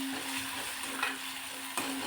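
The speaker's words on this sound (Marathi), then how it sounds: "ठेचा चांगला परतून घ्यायचा आहे तेला" Crushed raw garlic and green chili thecha frying in oil, a moderate continuous sizzle with soft stirring scrapes and a couple of brief utensil taps, no voices.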